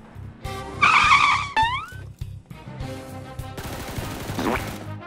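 Car engine in a battle royale shooter game on a desert map, a revving motor with tonal whines and sliding tire noise, bursts of gunfire and clattering impacts, loud and close.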